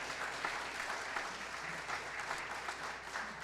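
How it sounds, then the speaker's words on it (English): Church congregation applauding after a fundraising announcement, steady quiet clapping that runs evenly throughout without a voice over it. "So give yourselves a round of applause."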